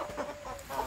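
Native ayam kampung chickens make short, soft clucks in a brief, faint burst that stands alone without talk.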